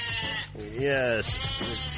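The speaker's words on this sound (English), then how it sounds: "The sheep are back." A sheep bleats with a wavering, drawn-out cry, followed by a shorter bleat, with voices talking underneath.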